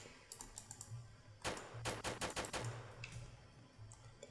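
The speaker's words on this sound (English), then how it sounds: "I am gonna use this gun" Rapid bursts of gunfire from a gun in the Roblox island battle game, several quick clustered volleys over roughly a second, fairly close and clear with no talking over them.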